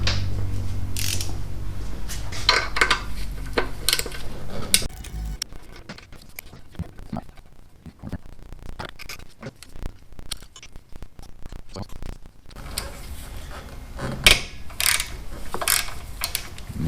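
Ratchet clicking as it loosens the brake caliper bolts on a 1985 Honda Shadow 700 motorcycle, bursts of close metallic ratcheting and tool handling with pauses between, fairly faint.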